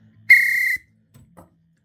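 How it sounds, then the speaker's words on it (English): A railway guard's whistle gives one short, shrill, steady blast of about half a second, close and clear, followed by quiet with faint low sounds. "The guard blew his whistle and Ivy started once more."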